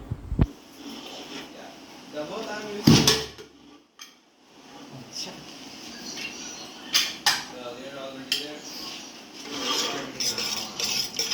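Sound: lid of pressure cooker with dal fry being opened

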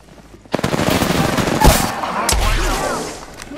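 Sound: gunfire from a video game (Apex Legends)

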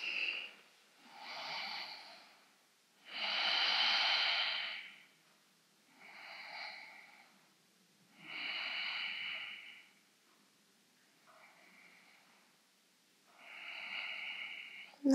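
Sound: slow even breathing during yoga

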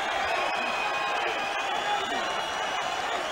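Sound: boxing crowd applauding

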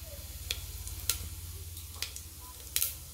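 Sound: cumin sizzling in hot oil in a pan

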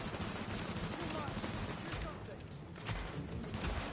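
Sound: gunfire in The Division video game

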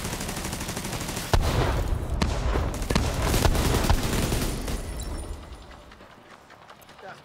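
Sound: gunshot in video game The Division 2

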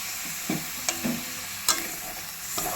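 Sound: stirring food frying in a kadai

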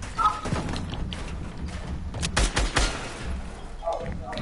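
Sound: gunfire in a video game

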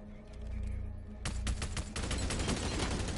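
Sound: gunfire in a video game

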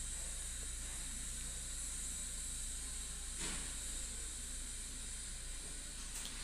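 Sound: fish curry broth boiling in a pot

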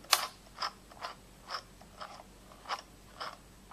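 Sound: Singer Handy Stitch handheld sewing machine making a stitch

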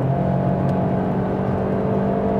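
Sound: Opel Astra Sports Tourer turbo engine at highway speed

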